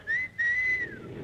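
A person whistles for a taxi: two loud, clear, high tones close by, the second held longer and sliding downward at the end, with no other sound.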